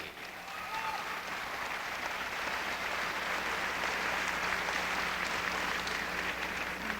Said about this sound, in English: Please give a round of applause, if you will, our musical director, Mr. Dave Villani